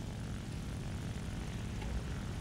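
The propeller engine of a Ki-43-II fighter in the War Thunder combat flight game drones steadily throughout, a continuous rumbling airscrew roar with no talk over it.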